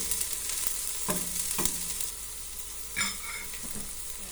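Onions sauté in a pan for pancit, giving a soft, steady sizzle close by with a few brief stirring scrapes and clatters, no voices.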